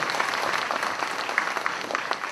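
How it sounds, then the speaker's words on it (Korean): An audience at a book concert in Korea applauds to welcome a late-arriving guest, a steady wash of many hands clapping at moderate volume throughout, with no talk over it. "여러분 환영의 박수 부탁드리겠습니다."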